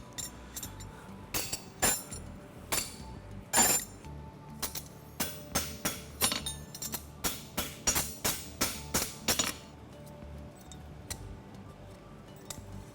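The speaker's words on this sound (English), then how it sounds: "This back punch nail hole just to clean the corners." Farrier back punching nail holes in a hunter horseshoe at a blacksmithing competition: a run of sharp metallic hammer strikes, irregular at first, then a quick steady series of clinks that trails off into a few scattered taps.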